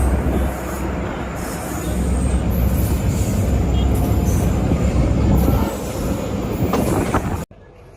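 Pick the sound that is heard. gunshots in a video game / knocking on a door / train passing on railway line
train passing on railway line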